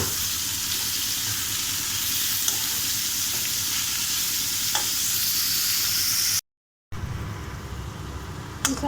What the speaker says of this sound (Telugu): బాగా ఫ్రై చేయాలి, లైట్ గోల్డ్ కలర్ వచ్చే వరకు ఫ్రై చేసుకోవాలి.